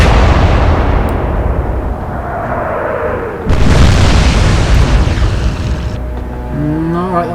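Warship guns fire shells in the naval game Atlantic Fleet, Royal Navy against Kriegsmarine, with loud booming salvos and long rumbling roars that swell, fade and boom again, one after another.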